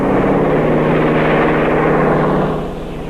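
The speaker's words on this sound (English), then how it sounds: "In that plane." A loud propeller airplane drones steadily with a low engine hum, then its sound drops and fades as the aircraft moves away.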